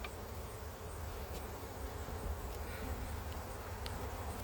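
Honey bees hum steadily and faintly through a beekeeping session as honey supers are pulled from the hives, with a continuous low buzz and a few light clicks and knocks above it.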